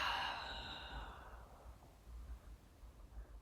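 A long, soft exhale during a core exercise, a breathy rush that fades over about a second, followed by quiet low breathing noise.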